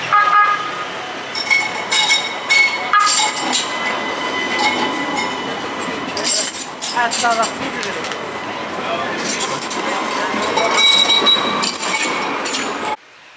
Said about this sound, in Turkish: Tramvay geliyor.